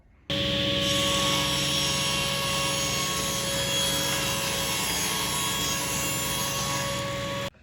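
Steady, loud whine of a table saw with a crosscut sled cutting a wood panel for a bookcase and vinyl record cabinet, running continuously for several seconds with a constant tone and stopping abruptly near the end.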